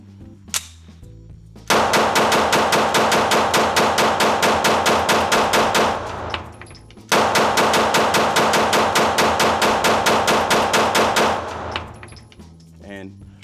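A Canik Prime Radian pistol fired with extended base plate magazines in two long rapid strings of loud, evenly spaced shots, each burst running several seconds before stopping, with a short pause between strings.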